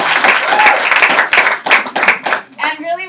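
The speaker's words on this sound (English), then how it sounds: "And you can clap it up for that." An audience at a training session breaks into loud, close applause, a thick rattle of handclaps that thins out as a voice starts talking at the end.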